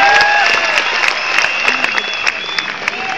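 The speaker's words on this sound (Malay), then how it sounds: "Bagi tepukan untuk isteri saya." Crowd at a motivational talk applauding the speaker's wife, steady dense clapping near and loud that gradually thins out over a few seconds, with a little scattered voice underneath.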